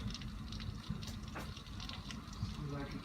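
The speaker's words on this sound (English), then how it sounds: "All the water running down the gutter." Rainwater gushing down a gutter during a hailstorm under a tornado warning, a steady close rush of water that continues throughout with faint voices beneath it.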